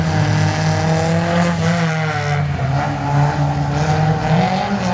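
Slalom race car at Saint-Lô driving past on a cold surface: a loud, close engine snarl held at high revs, with shifting pitch as it attacks the course, heard alone without talk.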